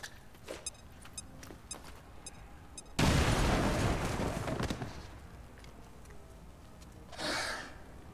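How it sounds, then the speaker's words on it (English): A grenade blows up in a military shooter video game: a sudden loud boom that rumbles and fades over about two seconds, with faint clicks beforehand and a smaller burst of noise afterward. "Throwing grenade!"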